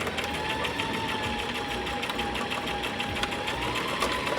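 A sewing machine stitching fabric for a knotted headband, a steady fast mechanical whir with rapid needle clatter, close and continuous with no talking.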